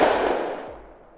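A single 16 gauge shotgun slug shot fired at a wild boar in theHunter: Call of the Wild, a loud sharp blast up close followed by a long fading rumble and echo, with no voices.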